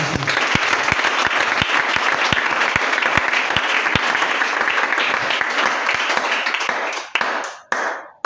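A church congregation bursts into sustained applause, dense clapping with a few cheers that holds steady before tapering off near the end.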